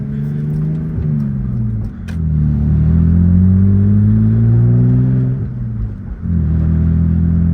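BMW E46 fitted with a ZF 6-speed gearbox running through shifts while driving: a loud, steady engine drone that briefly dips and recovers at each gear change, heard from inside the car with no speech.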